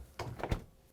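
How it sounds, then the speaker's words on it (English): A Samsung refrigerator door swings shut, a soft brief rustle followed by a low muffled thump, heard close and alone. "we can close the doors"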